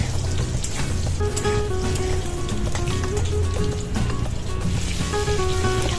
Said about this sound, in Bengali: আমি দিয়ে দিয়েছি আলুটা প্রথমে আলুটা একটু লাল করে ভেজে নেবো